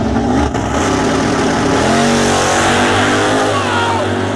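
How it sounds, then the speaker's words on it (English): A Chevrolet Camaro drag car launches hard off the line into a big wheelie, its engine screaming against the rev limiter in a loud, sustained roar at a drag strip, with excited shouting over it. "That's a big wheelie! Yeah! And on the rev limiter and the lights."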